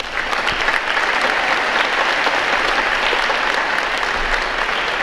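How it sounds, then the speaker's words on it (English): An audience at the Hicksville Schools Veterans Day program claps warmly in a full, even burst of applause that stays steady for several seconds. "Let's give her a round of applause."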